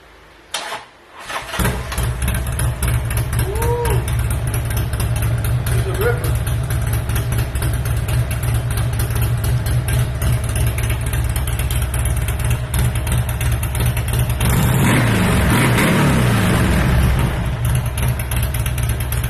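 A motorcycle engine cranks and fires up inside a garage, then settles into a loud, steady, rumbling idle that fills the rest of the stretch, close by, with a brief rev near the end.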